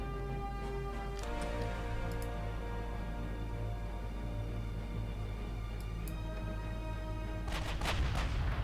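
Warship naval guns fire in Ultimate Admiral Dreadnoughts during a 1910 German campaign, with a few heavy booming shots spread apart over a constant low engine-like drone and faint ticking, ending in a louder cluster of blasts.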